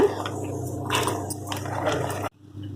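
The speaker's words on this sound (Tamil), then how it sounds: "தண்ணி நல்லா கொதிச்சிருச்சுங்க நம்ம வந்து இந்த சுண்டைக்காயை வந்து இதில் போடலாங்க" Small turkey berries drop into a pot of boiling water, giving a few soft wet plops and squishes over a bubbling hiss before the sound cuts off abruptly.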